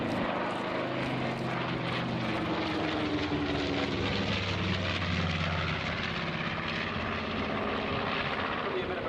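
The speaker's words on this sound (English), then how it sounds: "But as you see, it is a very agile aeroplane." Aeroplane flying past at the Dunsfold Wings and Wheels air show in 2014, a loud, sustained propeller engine drone with a slowly shifting pitch as it passes, under light background noise.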